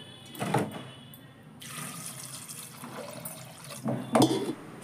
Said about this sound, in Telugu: శనగలు ములిగేంత వరకు వాటర్ పోసుకొని కుక్కర్ మూత పెట్టేసుకోవాలండి.